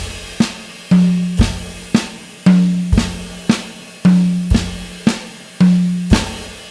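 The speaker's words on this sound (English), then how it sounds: "I'll play a left Swiss Triplet around the kit" A drum kit plays a left-hand Swiss triplet pattern moving between snare and tom with accents on the ride cymbal, loud and close in a steady repeating rhythm of sharp hits with ringing tom tones and no talk.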